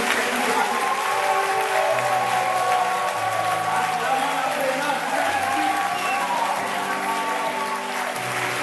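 A church congregation applauds steadily throughout, a dense sustained wash of clapping from a large crowd, with sung or spoken voices carrying over it.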